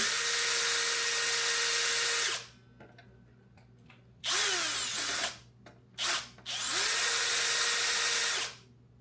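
A power string winder whines in loud, close bursts: one long run, then a short pause, a brief blip and another long run, loosening the strings on a G&L USA semi-hollow ASAT Deluxe electric guitar.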